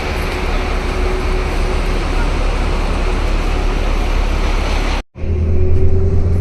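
A bus pulls up amid steady roadway traffic near a mosque in Madina, a loud continuous rumble of engines that cuts out briefly before a deep idling hum resumes close by.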